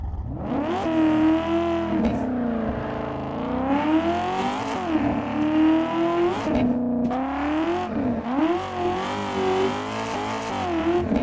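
A Mazda MX-5 drift car in the racing game Assetto Corsa revs hard and continuously, engine pitch rising and falling through repeated throttle blips and shifts, loud and close with faint tire squeal.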